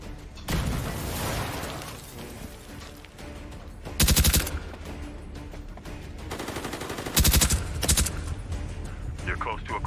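Rapid gunfire bursts from a PSVR2 shooter video game crackle loudly and repeatedly, with two especially dense volleys standing out amid near-constant shooting. Excited voices talk over the action.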